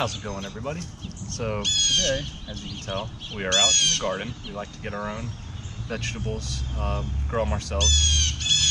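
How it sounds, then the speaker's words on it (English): Loud harsh squawks and caws of crows near a backyard vegetable garden, repeated calls close by, heard beneath someone talking throughout. "I don't know if you can hear these birds, but they're really loud right here right now."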